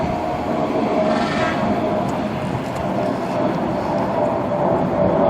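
Train wheels squeal on sharp curves inside the North South rail tunnel under Adelaide's CBD, a loud continuous rumble with a sustained high-pitched screech riding over it throughout.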